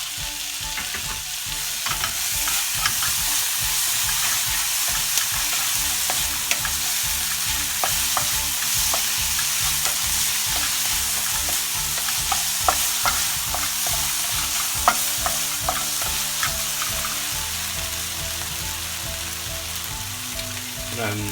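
Stir-frying for Hakka chilli gobhi with chili garlic sauce sizzles loudly and steadily in the pan, with frequent scraping and clinking of the spatula running through the whole stretch.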